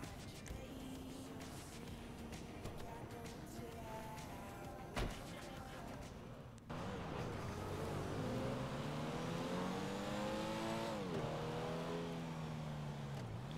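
A Dinka Kanjo SJ engine in GTA Online revs up and down on a test drive, its pitch rising and falling in smooth sweeps with a brief gear-change dip, steady and moderately loud throughout.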